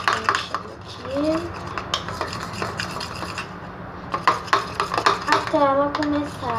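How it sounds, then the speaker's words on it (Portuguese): Slime mixture is stirred in a container, with close, repeated scraping and rubbing strokes and wet squelches in an uneven rhythm. A few faint squeaky tones rise and fall between the strokes. "A gente vai mexendo aqui."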